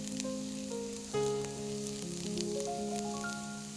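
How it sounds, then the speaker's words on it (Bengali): Chopped garlic fries lightly in a pan with a soft, steady sizzle, while some tonal music plays over it. "রসুন কুচিটা খুব চমৎকার একটা ফ্লেভার নিয়ে আসে। এটাকে খুব হালকাভাবে আমরা একটু ফ্রাই করে নিব।"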